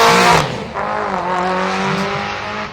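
Silver Mitsubishi Evo and first-generation Eagle Talon in a 12.5 Index class drag race at a DSM event, loud engine roar with a sharp burst at the start, then sustained revving with shifting tones.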